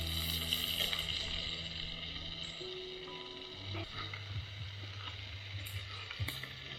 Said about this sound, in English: Посмотри, как рыбка готовится.